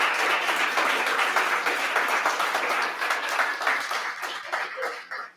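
An audience at a school reader's theater performance claps steadily in a dense, sustained wash of applause that slowly tapers off toward the end.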